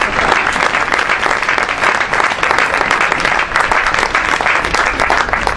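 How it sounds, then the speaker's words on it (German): Sustained applause from an audience at a race event, dense crowd clapping that stays loud and even throughout without pause. "Also euch allen jetzt mal einen kräftigen Applaus."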